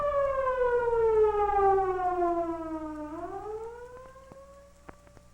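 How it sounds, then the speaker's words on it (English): An emergency vehicle siren from the 1950s wails loudly, its tone sliding steadily downward before sweeping back up, followed by a few faint clicks as it fades. "Always yield to emergency vehicles sounding their sirens or other signaling devices."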